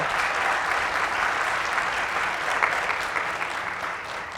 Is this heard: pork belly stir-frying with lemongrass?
no